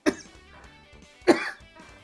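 Two harsh, close coughs from one person, spaced about a second apart, each a sharp burst that trails off into a rough throaty rasp.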